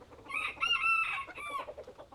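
Backyard chickens in a UK back garden, with a rooster crowing loudly and close amid clucking, followed by softer clucks trailing off.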